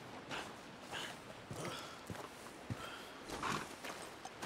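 Horse hooves clip-clop faintly in Red Dead Redemption 2, a few soft, scattered hoofbeats over a quiet, hissy game background.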